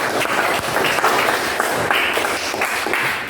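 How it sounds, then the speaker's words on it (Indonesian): Students clapping for a classmate in a junior high school classroom, a dense steady round of applause from a group, fairly close and lasting throughout with no talking. "Ya, tepuk tangan untuk Suci."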